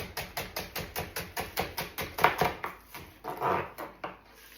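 A knife chops green onions on a cutting board in a fast, even rhythm of crisp close taps, about four per second, slowing to a few heavier strokes near the end.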